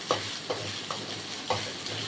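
Tomatoes sautéing in a pan on low heat for Chettinad chicken gravy, a steady soft sizzle broken by a few spatula scrapes at roughly half-second intervals, close and even, no voices.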